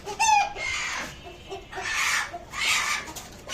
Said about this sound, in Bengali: এই যে এই একটা মোরগ আর এই একটা মুরগি